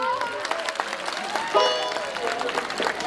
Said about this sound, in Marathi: आवडलं तर नक्की टाळ्या वाजवा